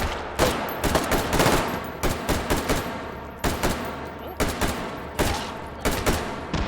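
A custom-built gun in H3VR fired in rapid automatic bursts, loud and close, with short pauses between each volley of repeated shots and no talking.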